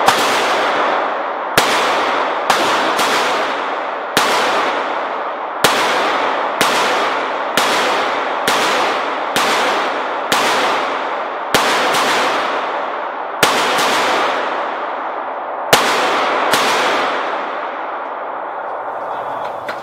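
Unsuppressed 9mm Glock pistol shots ring out one at a time, about a dozen sharp loud cracks at an uneven pace, each followed by a short echoing decay outdoors.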